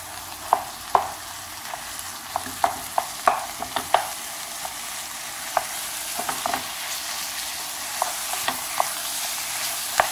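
Minced meat frying with golden onions in a pan for stuffed potatoes, a steady sizzle broken by sharp scraping and stirring clacks of a utensil against the pan, close and alone without talk.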